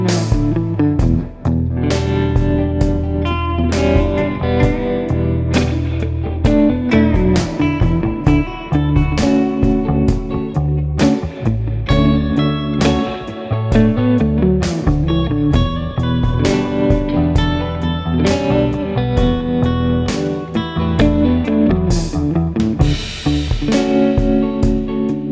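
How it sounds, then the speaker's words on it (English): A Tokai-style Turser JT-220 Gold Top electric guitar plays through a vintage Fender amp with reverb, strumming chords and picking notes in a loud, continuous passage with no talking. "I love my Turser JT-220 Gold Top, and through a vintage Fender amp and reverb, sounds like this."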